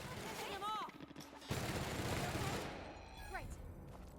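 Rapid bursts of gunfire in the video game The Outer Worlds, loud close shots over a chaotic few seconds, with a character voice briefly heard before and after.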